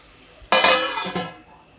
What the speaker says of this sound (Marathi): आता झाकण ठेवते